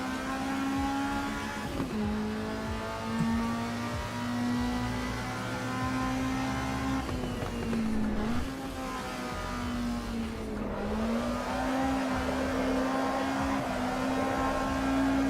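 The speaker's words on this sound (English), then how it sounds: "Warming up my tyres." A small Alfa race car engine in the Assetto Corsa EVO video game drones steadily at high revs, rising and dipping with gear changes, with faint tyre scrubbing underneath as tyres warm up, continuous and close throughout.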